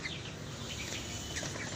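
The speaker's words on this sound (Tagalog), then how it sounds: "kita mo mga manok niyan ang dami dami" A dense flock of chickens clucking and rustling close by, with scattered bird calls layered over a steady farmyard murmur.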